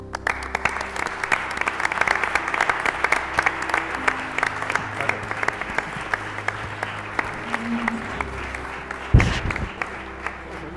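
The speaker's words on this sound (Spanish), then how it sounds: "Ruego un aplauso a don José Luis." Audience at a Spanish Constitution anniversary ceremony gives a sustained round of applause for an honoree, clapping densely and evenly throughout with a brief thump near the end.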